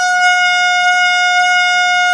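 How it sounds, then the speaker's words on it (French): A loud, steady electronic horn blares in an ice cream challenge game among friends, one sustained buzzing tone held without a break from start to finish. "je vais finir par m'habituer à ce klaxon"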